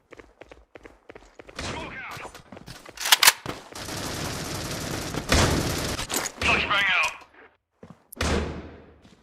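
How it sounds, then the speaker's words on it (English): Machine-gun bursts, single shots and grenade blasts in a competitive team shooter match, with sharp volleys and loud dense stretches of fire broken by short quiet gaps, plus scattered thuds and footsteps. "shots are being fired, grenades are being thrown"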